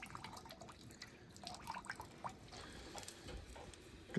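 Snowmelt water drips from an eave trough into a pail outdoors in winter, giving faint, irregular plinks and small splashes over a quiet background without talk.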